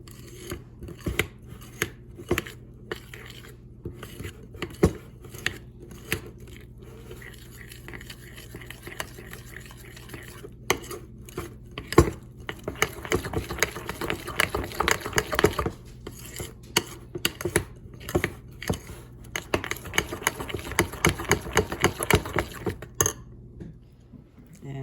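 Repeated scraping and tapping of a utensil against a bowl while mixing batter with psyllium husk and whey powder, irregular strokes that grow busier midway, close and clear.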